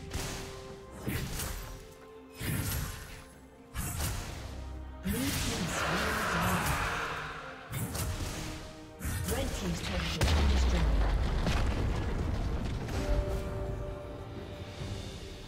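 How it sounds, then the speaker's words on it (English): Turret destroyed in a League of Legends match, heavy crashing and booming game effects in several bursts with whip-like impacts, an announcer voice speaking between them. "Red team's turret has been destroyed."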